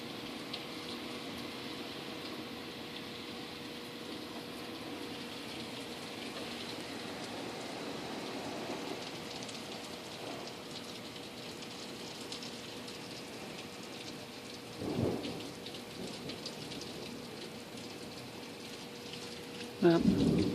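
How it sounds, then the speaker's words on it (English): Heavy rain pours steadily during a June storm, a dense hiss of drops on surfaces with low rumbles of thunder around the middle and a louder burst near the end. "amount of rainfall we're getting, which we do desperately need"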